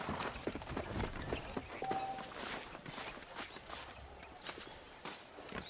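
Hooves of a horse-drawn wagon clip-clop in Red Dead Redemption, a faint, busy patter of steps under a low rumbling background, with no talk.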